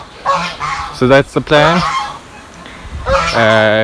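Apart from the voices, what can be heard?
geese honking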